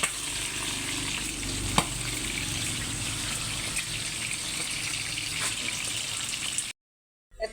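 Hot oil spatters and sizzles steadily while breakfast food fries in a pan, a dense close crackle with a couple of sharper pops, ending in abrupt silence.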